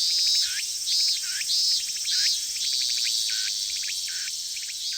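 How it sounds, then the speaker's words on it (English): Summer cicadas in the visual novel ef: The Latter Tale, buzzing in repeated shrill pulses with a steady, bright drone, moderately loud with no talking. "The familiar sound of the cicadas filled the air as I approached the exit."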